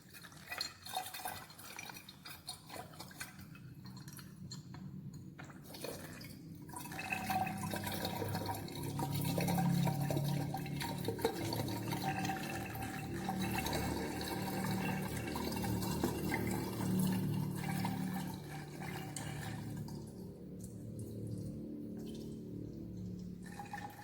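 Liquid poured steadily into a container up to a fill mark during a chemistry stoichiometry demonstration, a soft continuous trickling and gurgling that swells midway and runs for over twenty seconds, faint and close, with no talk.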